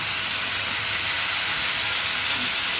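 Fried pointed gourd tipped into hot spice paste for a curd pointed gourd curry, giving a loud, steady, bright sizzle and hiss that holds without a break.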